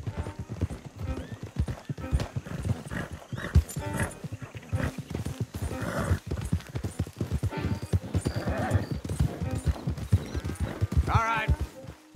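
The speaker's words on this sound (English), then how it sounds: "Don't want the horses clopping around outside the window." Horses clip-clop steadily on hard ground in Red Dead Redemption 2, a close, continuous rhythm of hooves with occasional whinnies and game voices talking over it.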